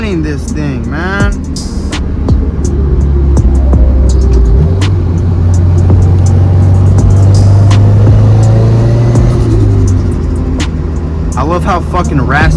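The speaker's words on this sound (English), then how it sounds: "I love how fucking raspy the exhaust sounds." A turbocharged Subaru WRX engine revs hard and drones steadily, with a raspy exhaust note rising and holding, while people talk over it.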